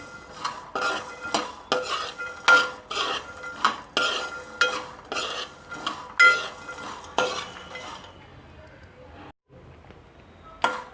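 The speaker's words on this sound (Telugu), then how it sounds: "ఇలా కలుపుకుంటూ స్టవ్ లో ఫ్లేమ్లో పెట్టుకొని వేయించుకోండి." A spoon scrapes and knocks against a pan while dry coconut and spices are stirred and fried on a stove, a regular series of sharp metallic clinks over a faint sizzle, stopping near the end.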